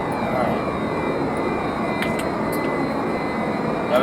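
An airplane engine in a flight video game drones steadily and loudly throughout, with a few faint high clicks partway through.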